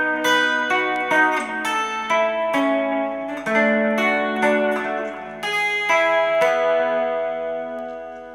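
An electric guitar slowly picks a chord progression on the top three strings, each chord ringing out bright and clean in a steady, unhurried sequence with no voices.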